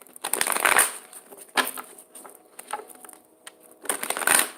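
Quick bursts of cards being riffled and shuffled, three rustling flurries with short pauses between them, close by and fairly soft.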